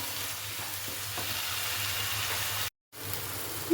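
Onions fry in a pan with a steady, even sizzle close by, broken once by a brief moment of silence before the frying resumes.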